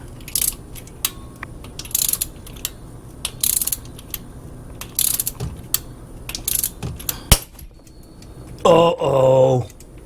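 A click-type torque wrench tightens the intake manifold bolts on an LS3 engine to 50 inch-pounds, giving short bursts of close ratcheting clicks with quiet gaps between them, a sharp click near the end, and a brief voice after it.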